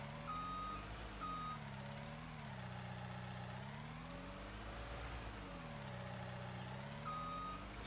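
Dump truck reversing in Farming Simulator 19, steady repeating backup beeps over a droning engine that rises and falls, with no talk.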